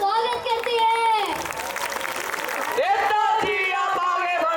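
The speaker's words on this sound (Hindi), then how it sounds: "तालियों की गड़गड़ाहट से उनका स्वागत करते हैं" A crowd applauds and cheers at a political rally welcoming a leader, the clapping swelling briefly between loud, chanting voices that dominate the surrounding moments.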